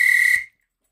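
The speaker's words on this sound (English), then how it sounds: "The guard blew his whistle" A railway guard's whistle gives a single shrill, steady blast lasting under half a second, close and loud, then cuts to silence.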